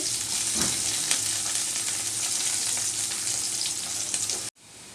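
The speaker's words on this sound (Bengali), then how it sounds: "এই তো পেঁয়াজ আর রসুন ভাজা হয়ে গেছে" Chopped onion and garlic frying in oil, a steady close sizzle that holds evenly and then cuts off abruptly near the end.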